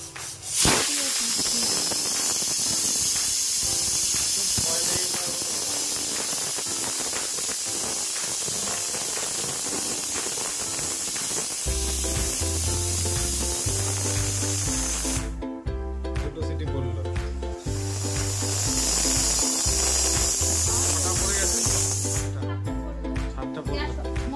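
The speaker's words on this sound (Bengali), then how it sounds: "নাও এবার সিটি মারার অপেক্ষায় বসে থাকো।" A pressure cooker of mutton curry hisses steam loudly and continuously on a stove, a steady spray-like rush that carries on throughout, with rhythmic music in the background during the second half.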